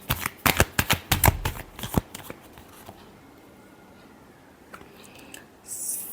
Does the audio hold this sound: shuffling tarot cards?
yes